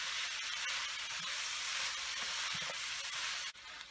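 Mixed vegetables with corn and cauliflower sautéing in a pan, a loud steady hiss and sizzle held close for several seconds, with a brief dip and a soft knock near the end.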